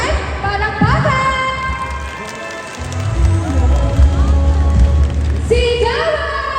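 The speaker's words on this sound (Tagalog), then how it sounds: "One more time, palakpakan!" An audience at a mall show claps in a dense wash of applause that swells midway, mixed with amplified voice and music around it.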